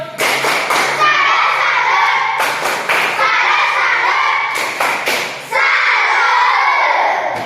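Schoolchildren in a classroom perform the 'tepuk salut' clapping routine, loud rhythmic claps in patterned bursts mixed with their shouting and chanting voices, pausing briefly between sections.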